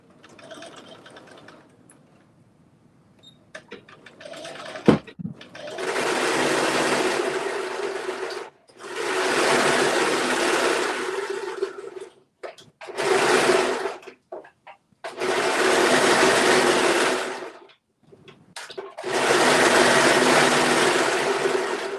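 A home sewing machine hems a pair of pants, running in about five loud bursts of rapid stitching, each lasting a few seconds, separated by short quiet pauses, with a few faint clicks before the first run.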